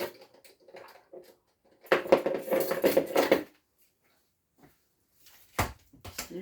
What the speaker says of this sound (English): Spoon to stir it.